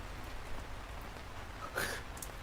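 Rain falls in Minecraft as a faint, steady hiss, with one brief brighter blip near the end.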